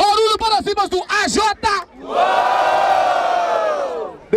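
A crowd at a trap-special rap battle in Barueri erupts into a loud, sustained roar of cheering and yelling for AJ, lasting a couple of seconds after a host's shouted call.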